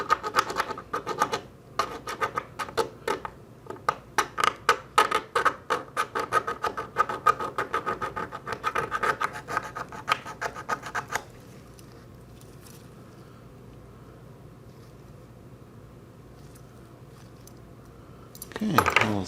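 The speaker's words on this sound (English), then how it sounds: "Okay, a little sanding." Dense, rapid scratchy rasping of sandpaper against a small metal TootsieToy Land Rover toy car, continuous for about eleven seconds, then quiet background hum before a brief rustle at the end.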